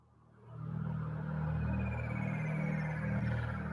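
"Cloud shimmer" synth pad swelling in from quiet to a soft, steady sustained drone with faint glistening high sweeps drifting above it, heard alone without speech.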